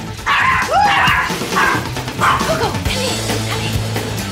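A small, noisy little dog barks and yips in several sharp bursts close by, with a whimpering edge between barks and faint room noise behind.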